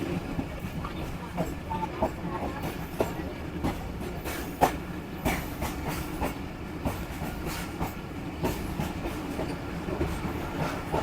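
A passenger train on the Lahore to Rawalpindi line rolls along its rails near Badami Bagh station in Lahore, with a steady, close clickety-clack of wheels and a low carriage rumble. No one speaks.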